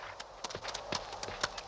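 A donkey's hooves clip-clop in a quick, steady rhythm at moderate distance over a busy, noisy background in an animated scene.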